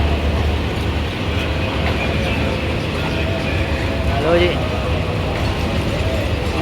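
A Shalimar Express train rumbles loud and steady at a railway platform in heavy rain, with someone talking over the noise.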